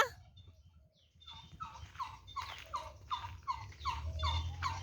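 A turkey gobbles again and again in a rhythmic series of rapid warbling calls. The calls get louder and closer over a few seconds at a rural home in the early morning.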